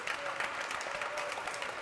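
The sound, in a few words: applause for the president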